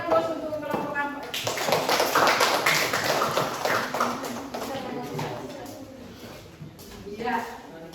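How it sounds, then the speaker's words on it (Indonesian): Group 4 gets a burst of audience applause in a classroom session: dense clapping that peaks early and fades out, with voices talking throughout. "Kita beri aplaus untuk kelompok 4"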